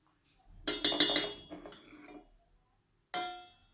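A metal spoon scoops crema off the top of specialty coffee, giving a close cluster of clinks and scrapes against the cup, followed after a pause by a single sharper clink.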